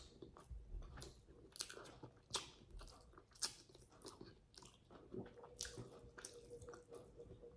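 Crispy fried fish is bitten and chewed close up, with sharp crunchy bites and wet chewing in an irregular rhythm, quiet and without talk.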